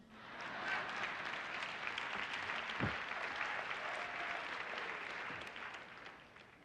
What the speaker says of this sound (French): Merci aux saints qui ont applaudi.